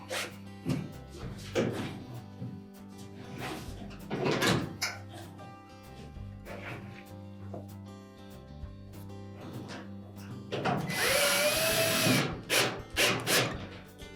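Power drill driving a retaining screw into a Whirlpool dryer panel, heard as several short bursts of drill whir separated by pauses and handling knocks, ending with a longer, louder run of the motor.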